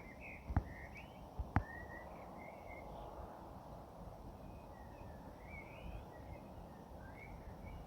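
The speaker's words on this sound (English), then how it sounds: "You hear that blackbird?" A blackbird sings in the dark before dawn, its fluting phrases faint and distant over a steady low background rumble, with a couple of sharp knocks early on.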